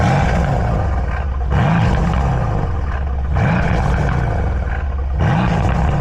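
A Mercedes-AMG C63 S engine revs hard three times in a row, each deep, growling roar climbing and falling back before the next, loud and close with no talking.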